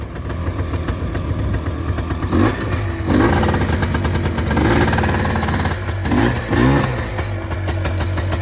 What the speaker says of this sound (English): So I'm going to start it up and show you the reverse works fine.